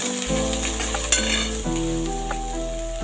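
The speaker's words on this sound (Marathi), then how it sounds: "कांदा बघा कसा मस्त चांगला परतवून झाला आहे" Steady sizzling of onion sautéing in a hot pan with a low hum beneath, a brief clink of a utensil partway through; no talking.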